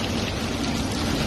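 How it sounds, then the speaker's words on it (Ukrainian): Heavy rain pours steadily over Simferopol, a dense, continuous hiss with no breaks, close and fairly loud throughout. "Дощ у Сімферополі знову перевірив на міцність дахи місцевого литовища."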